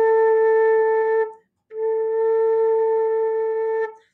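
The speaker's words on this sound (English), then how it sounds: "Now, this is a fairly low note on the flute." A flute sustains a steady low note in two long breaths, a brief gap of silence between them, clear and close with no talking.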